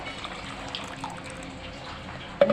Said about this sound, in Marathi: हे मी पूर्ण तांब्यामधलं पाणी मी या बॅटरमध्ये घालत आहे हळूहळू